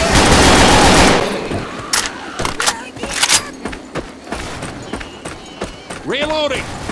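Heavy sustained automatic gunfire in Left 4 Dead 2, a loud continuous burst followed by scattered shots and combat noise, with a shouting voice over the action.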